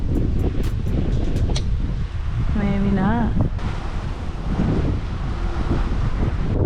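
Strong gusting wind roars across the microphone throughout while outdoors bass fishing, with a brief spoken word partway through.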